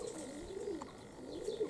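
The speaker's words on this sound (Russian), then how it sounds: "Вон этот голубок, а ну-ка, покажись, где ты там, вот он." Young Chepel-breed pigeon cooing softly nearby in a loft, two low rolling coos a moment apart, faint and with no speech over them.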